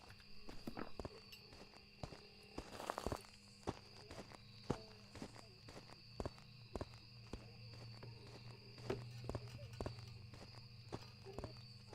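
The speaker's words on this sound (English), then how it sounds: "All right, listen to the footsteps." Footsteps in a ghost-hunting video game tap out at an even walking pace, faint and regular, over a quiet ambient hum with a few chirping insect-like tones in the background.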